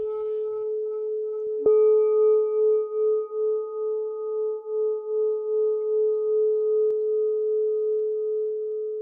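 A meditation bell is struck once and rings out in a long, sustained tone that fades very slowly, with a faint hum beforehand.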